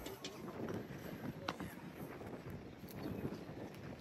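Blustery wind buffets the microphone on Saundersfoot beach in Pembrokeshire, a steady broadband roar with gusty swells and brief thumps, no voices present.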